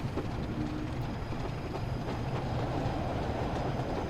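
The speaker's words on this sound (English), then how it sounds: "That's running the 101 sound pack, because I've got that installed." A Class 101 diesel multiple unit runs in a train simulator, a steady rumbling roll with faint rhythmic wheel clatter and a little squeal, continuous and fairly close, with no talking.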